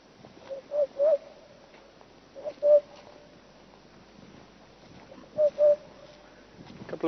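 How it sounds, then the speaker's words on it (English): An African hoopoe calls from a large marula tree in the bush, giving soft hollow hoots in short paired bursts, repeated with pauses over faint background noise. "There's an African hoopoe just calling."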